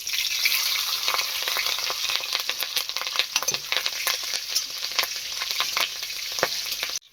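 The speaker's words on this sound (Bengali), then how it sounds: "প্রথমে ফোড়নে দিয়ে দেবো কারি পাতা, তারপর দেবো কাঁচা লঙ্কা" Curry leaves and green chillies crackle and spit in hot tempering oil, a loud, dense sizzle full of sharp pops that runs continuously before cutting off abruptly; no voices.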